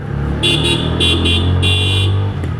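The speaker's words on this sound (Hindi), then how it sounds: "talking about the next good feature about this bike is its dual horn" A TVS Apache 160 4V BS6 2021 motorcycle's loud dual horn sounds in several short blasts, then one longer honk, close by with the engine rumbling underneath.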